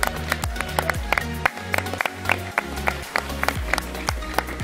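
Audience clapping for two teams at a tournament, a stream of claps running over a steady, droning tonal background.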